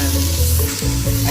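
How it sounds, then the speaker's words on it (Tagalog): Rabbit meat hits a hot pan of sizzling garlic and oil for adobo, a loud, close burst of crackling frying with no voices. "ilalagay na ang karne ng ating rabbit na pagkasarap-sarap"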